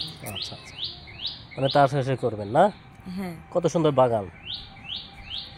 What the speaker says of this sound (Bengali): পাখি ডাকে